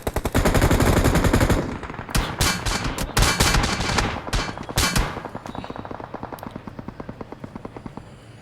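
Gunfire in a shooting video game: loud, rapid automatic bursts with sharp individual shots, then a long run of evenly spaced repeating cracks that fade a little toward the end.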